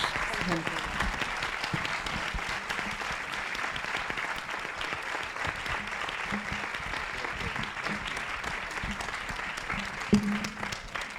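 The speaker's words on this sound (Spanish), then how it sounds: "Vamos a despedirle con un gran aplauso" An audience claps to send off a guest at the close of a film colloquium at Proyecto Viridiana, a steady spread of applause running throughout with faint talk and murmurs mixed underneath.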